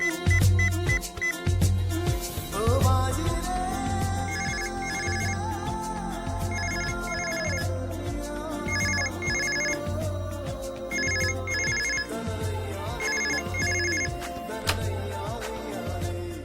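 A phone rings with a repeating tone pattern during a Telugu family drama scene, its regular chirps running over background music for the whole stretch.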